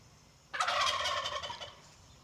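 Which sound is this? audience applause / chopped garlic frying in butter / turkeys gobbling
turkeys gobbling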